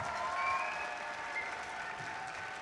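An audience applauds at the opening ceremony of a 2025 PCH District robotics competition event in Statesboro, with steady, moderately loud clapping and faint whistles or cheers, easing slightly toward the end.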